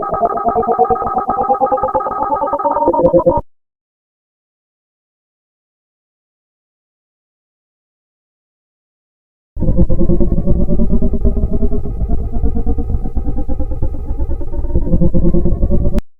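A heavily processed, distorted synth drone made from a single beep rumbles for a few seconds, cuts to silence, then returns loud and murky, like a warbling underwater effect.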